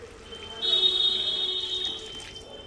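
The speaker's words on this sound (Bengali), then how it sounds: "পুরো গরম জলটা দিয়ে দিলাম" Hot water poured into a pan of chicken cooking in spices makes a steady hissing pour of about one and a half seconds, close and fairly loud, over a low hum.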